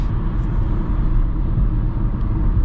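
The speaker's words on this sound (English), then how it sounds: "let's go ahead and talk about the tire noise" Inside a 2024 Kia Forte on the move, tire and road noise forms a steady, loud low rumble with a broad muffled roar and no voices.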